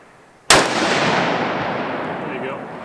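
A single loud, sharp rifle shot from a factory Savage 12FV chambered in 6.5 Creedmoor, followed by a long outdoor echo rolling away over open ground.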